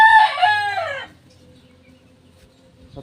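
A gamecock rooster of Boston Shooter bloodline gives a single loud, close crow that fades out over about a second, leaving near silence with faint background noise.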